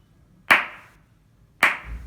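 Two single hand claps about a second apart, sharp and close, each with a short ringing tail, marking a slow steady beat in a music lesson.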